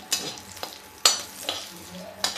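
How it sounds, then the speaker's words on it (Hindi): Fresh green fenugreek leaves crackle and sizzle in hot oil close by, with occasional stirring scrapes and sharp pops. "ये हरी मेथी का पत्ता है, इससे तड़का लगा दो"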